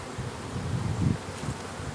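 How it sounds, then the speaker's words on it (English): Honeybees in a hive built in a wall cavity give a dense, close, steady buzzing hum that swells briefly mid-way, with no talk over it. "You still have a lot of bees in that back."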